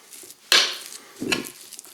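Pâté de campagne ingredients being mixed in a bowl, two brief close clinks and scrapes of a utensil separated by a short pause.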